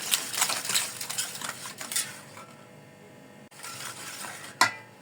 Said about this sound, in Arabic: غادي نخلط مزيان